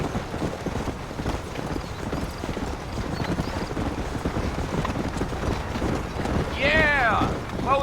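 Horse hooves clip-clopping steadily in Red Dead Redemption, a brisk rhythmic trot up close, joined near the end by a whinny, with game dialogue and wind in the background.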